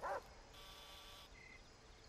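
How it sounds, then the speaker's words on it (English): A single short dog bark in the video game Far Cry 3 on Xbox 360, heard once at the very start, then steady game ambience. "And there's a dog over there"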